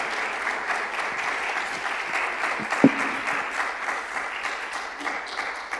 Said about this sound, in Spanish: Un fuerte aplauso, por favor, para Juanjo Martínez.